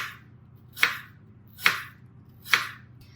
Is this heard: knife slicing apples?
yes